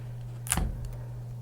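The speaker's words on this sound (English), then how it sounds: "So let's wrap that around and tape that end." Adhesive tape is torn and pressed onto a sublimation wrap around a shot glass: one brief, close ripping burst over a steady low electrical hum, then quiet.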